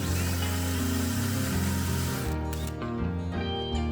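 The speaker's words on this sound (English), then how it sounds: "I'm just going to leave it bolted in place and drill the holes right where it's at" A power drill grinds steadily and loudly through a hard steel hook on a Harbor Freight three-point quick hitch, a continuous droning whir that carries on throughout without a pause.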